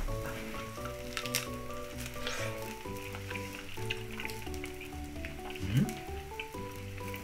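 Duck wing meat grilling for yakiniku, a steady soft sizzle and crackle with close spits and pops running throughout, over a faint background of held musical tones.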